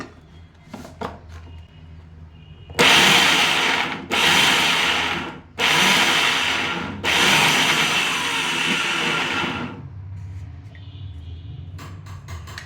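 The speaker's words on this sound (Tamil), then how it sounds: "இதை வந்து பல்ஸ் மோடில் போட்டு ரொம்ப நைஸ் ஆகாமல் அரைக்கணும்" A mixer grinder pulses garlic, ginger and cloves in four loud, close bursts of a few seconds each, with short pauses between, ending in a longer final run before falling quiet.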